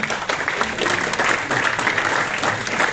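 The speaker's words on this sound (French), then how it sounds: "elle mérite des applaudissements, Léonie" At a draw for an international youth tournament, the crowd applauds a young girl named Léonie, a steady, moderately loud wash of clapping from many people filling the room.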